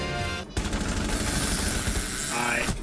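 Gunfire in Rainbow Six Siege, a sustained rapid burst of shots after a brief lull, loud and continuous with some game sound layered underneath.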